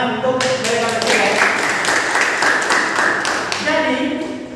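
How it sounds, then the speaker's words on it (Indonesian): A classroom applauds two students, with steady, close clapping from many hands running for a few seconds under a voice that keeps talking. "Tepuk tangan untuk mereka berdua."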